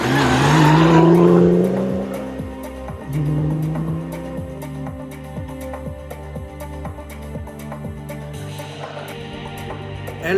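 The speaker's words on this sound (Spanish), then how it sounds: "El rugir del Ford Ranger" A Ford Ranger rally car at a cross-country rally in Cuenca roars loudly nearby, its engine climbing through gears with sharp rev rises and drops as it passes, ending in a steady drone.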